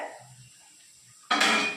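A lid comes off a cooking pot in a kitchen: a quiet pause, then one sudden metallic clatter followed by a bright ringing rush of steam and bubbling.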